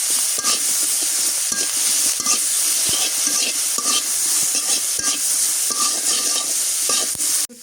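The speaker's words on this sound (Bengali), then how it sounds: "শুটকি ভাজা হইতেছে ওদিকে" Salted dried fish (shutki) frying in a pan in a village kitchen, a continuous bright sizzle broken by repeated scraping and clinking strokes of a spatula stirring against the pan.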